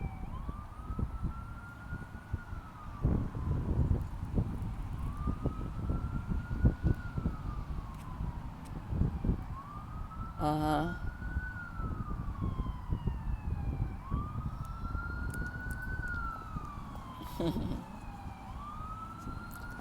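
An emergency vehicle siren wails outdoors in a repeating rising-and-falling pattern, fairly distant, running steadily beneath a low rumble of background noise, with a brief sharp burst of another tone near the middle.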